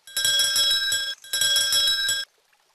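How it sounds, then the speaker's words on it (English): A big bell rings at an outdoor grill cookout in two loud, sustained bursts with a short gap between them, then fades to quiet. "He rings a big bell when everything is ready."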